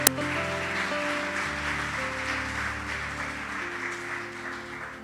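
Congregation applauding during a Spanish-language church service, a diffuse wash of clapping that goes on steadily beneath a sustained music bed of held keyboard chords.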